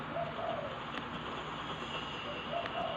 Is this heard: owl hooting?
yes